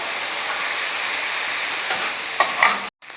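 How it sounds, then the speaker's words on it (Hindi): Khagina, a Punjabi-style egg dish, fries on a tawa griddle with a steady, close, broadband sizzle and hiss, then cuts out abruptly near the end. "तवे पे हम पकाते हैं।"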